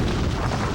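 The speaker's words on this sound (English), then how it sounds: "Explosion." A continuous heavy rumbling explosion roars loudly in the video game Mega Man X Command Mission, a dense, sustained blast with no clear attack or pause.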